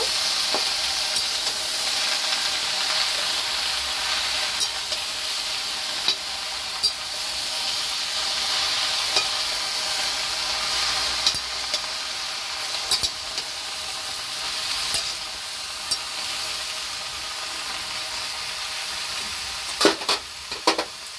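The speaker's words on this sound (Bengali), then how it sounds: "একটু নেড়ে চেড়ে নেব।" Mixed vegetables and greens for a Bengali labra fry in a pan with a loud, continuous hiss and sizzle, while occasional clinks and scrapes of stirring break in close by.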